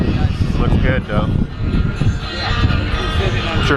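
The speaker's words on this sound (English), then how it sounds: "Excuse the wind noise." Wind rumbling and buffeting against the microphone beside a running car with a cammed LS1-swapped Mazda RX-7, a loud, uneven low roar with people talking over it.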